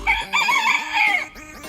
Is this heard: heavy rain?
no